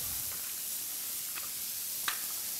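Onions sizzling in a hot, smoking pan: a steady, soft frying hiss with a few faint crackles and pops, no voices.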